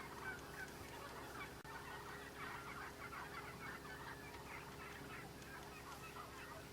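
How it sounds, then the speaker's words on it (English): Flock of wild turkeys just off the roost in Montana hunting country on a November morning, soft clucks and chatter scattered at a distance, faint and continuous with no voices. "All these turkeys just came off the roost."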